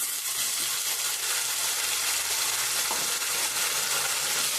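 A ground paste of tomato, onion, green chili, ginger and garlic fries in hot oil for mushroom biryani, giving a steady, loud, close sizzle with a broad hiss that never lets up and no voices.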